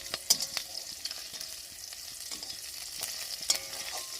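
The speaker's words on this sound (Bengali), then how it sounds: "এই যে রসুনটা আমার ভাজা ভাজা হয়ে গেছে।" Garlic frying in a pan, a steady high hiss of sizzling oil with sharp clicks and scrapes from stirring, close and continuous with no talk.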